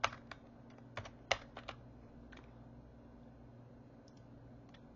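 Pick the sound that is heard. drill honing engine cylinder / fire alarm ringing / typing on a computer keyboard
typing on a computer keyboard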